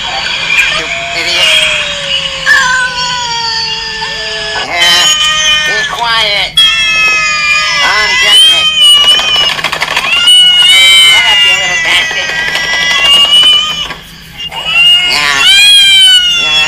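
Several cats meow and yowl insistently while waiting to be fed, with loud overlapping cries and rising wails close by and someone talking over them.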